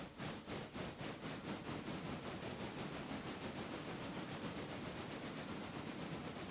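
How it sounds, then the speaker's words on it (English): A passenger train in the railway game Railroader rolls in, its steady broadband rumble with rhythmic clacking pulses staying fairly constant and close for several seconds, no voices over it. "here comes the passenger train"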